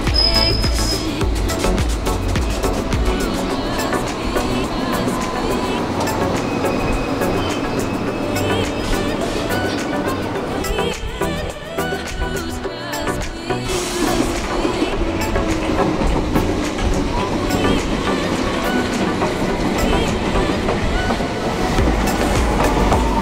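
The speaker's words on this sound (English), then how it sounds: "Westbound train comes in ACO, then goes back to Tripcock." A westbound London Underground District Line train pulls into a station, its wheels clattering and rumbling at moderate level, easing briefly mid-way before the roar builds again, with faint squeals and clicks.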